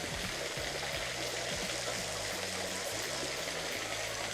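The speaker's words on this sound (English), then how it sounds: "Our mates brought us to a waterfall." A small waterfall near Akaroa on New Zealand's South Island, running low and trickling, gives a steady, fairly loud wash of falling water. Low rumbles and bumps from wind or handling cut in beneath it throughout.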